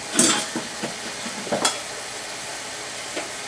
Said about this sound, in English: my couple cloves of garlic in there, saute it